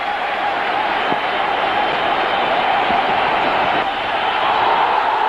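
Cricket crowd at a Test match in Kolkata, 2001, filling the stadium with broad, steady applause and cheering as an Indian batsman nears a record score; a continuous dense roar with no break.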